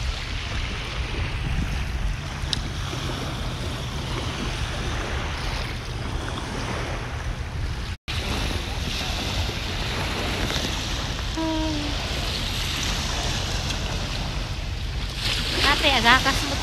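Surf washes onto a shoreline at high tide on a Canadian beach during crabbing. It is a steady, broad rushing roar under heavy wind buffeting the microphone, with faint voices briefly near the end.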